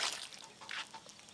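A little water goes into a pan of prawns and small eggplant, giving a brief, close splash and trickle followed by soft drips and gentle bubbling.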